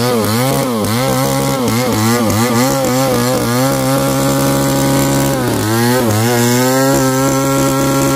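A chainsaw cutting into the stump of a Dipterocarpus tree over a hundred years old, loud and close, the engine pitch rising and falling repeatedly as the bar bites into the wood, with no voices.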